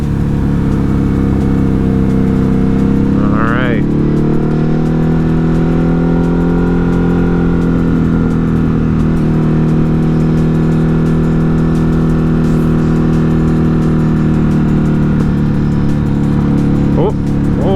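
A Ducati Hypermotard 950 RVE motorcycle riding twisty roads, its engine a loud, steady close drone that swells and eases slightly through bends, mixed with rushing wind.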